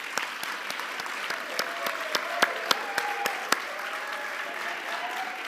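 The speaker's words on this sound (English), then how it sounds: "please join me in a round of applause for these tremendous HR Achievement Award honorees" An audience applauds HR Achievement Award honorees at an awards ceremony: a steady, full round of clapping that holds evenly throughout, with a few sharper individual claps standing out.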